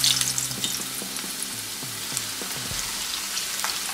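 Potatoes fry in hot oil in a pan for a restaurant-style mixed vegetable sabzi. A dense, steady hiss and crackle of sizzling runs from start to finish, loud and close, with a few low knocks underneath and no voices.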